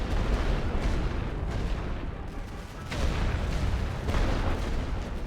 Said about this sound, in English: The machine gun of death!